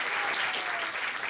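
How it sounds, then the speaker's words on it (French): A theatre audience at an adult improv show claps in a short, dense burst of applause that fills the room evenly. "Alors, il me faudrait pour Igor et Thibaut, on les applaudit."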